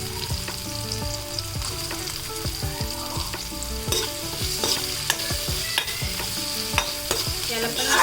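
Onion sautéing in a pan with chilli and hing for methi bhaji, a strong continuous sizzle overlaid with rapid rhythmic spatula scrapes and taps against the pan, close and steady throughout.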